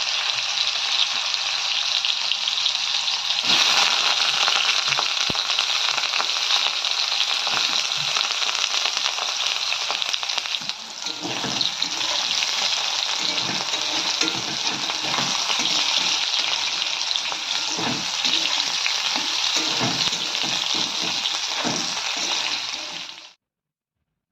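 Mixed vegetables — aubergine, beans, cauliflower, potato, carrot — frying in a village kitchen, a loud steady sizzle throughout with scattered crackles and pops, ending abruptly.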